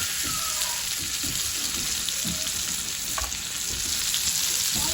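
Meatballs searing in a hot pan, a loud, dense, continuous sizzle with occasional spattering crackles and low thumps as pieces shift, close up with no talking.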